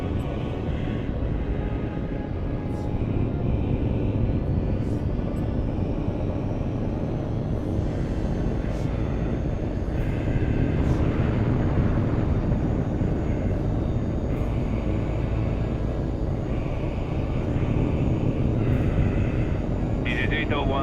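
Enemy jet engines drone in Tom Clancy's HAWX 2, a loud sustained roar of aircraft that runs throughout, with radio-style voices speaking over it.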